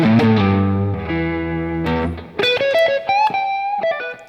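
An electric guitar runs through a Maxon RC pedal into a Tube Screamer overdrive, playing sustained distorted chords and then single-note lead lines with bends, loud and clear with no voices.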